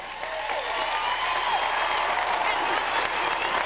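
A crowd of about 18,000 at Seneca Falls in 1998 applauds as First Lady Hillary Rodham Clinton is welcomed, producing dense, steady clapping that fills the whole stretch with no gaps.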